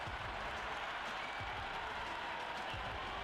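Stadium crowd noise fills a Cricket 26 match between New Zealand and Sri Lanka, a steady broad roar with applause-like texture after a big shot, continuous and moderately loud throughout.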